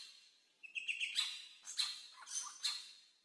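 Wild birds call in an Australian forest, with a quick run of thin, high chirps followed by several sharper squawking calls, fairly close and clear against a quiet background.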